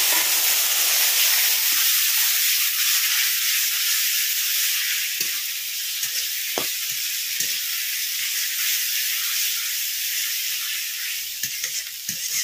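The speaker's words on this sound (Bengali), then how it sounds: "মশলাটা ভাজা হয়ে গেছে, এখন এর মধ্যে ঘ্যাটকোল পাতা বাটাটা দিয়ে দিচ্ছি" Ghetkol leaf paste hits fried spices in a hot pan, a loud continuous sizzle and hiss close up, with occasional soft stirring knocks as it settles.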